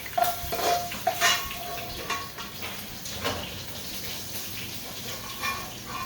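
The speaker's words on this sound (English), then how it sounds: "I'm gonna pour oil inside and I'm gonna throw in my onion and my garlic into it" Onion and garlic frying in oil in a karahi, a bright crackling sizzle under scattered metal clinks and scraping of a utensil, close and fairly loud, no speech.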